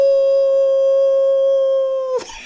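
A voice imitates a wolf howl, one long sustained, steady rising-then-level cry held loud for about two seconds before it breaks off abruptly into a short rough burst.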